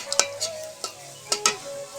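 Cumin seeds hit browned onions in a hot pan, giving a few quick sharp crackles and spits over a soft sizzle, with a light tone from the pan underneath.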